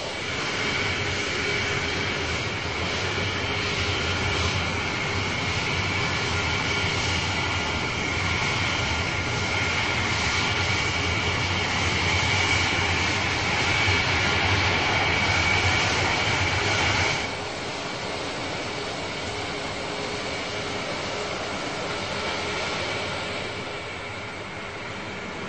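Airliner taxiing off the runway toward the arrival gate at Dulles International Airport, a steady loud engine whine and cabin rumble that drops slightly in level partway through.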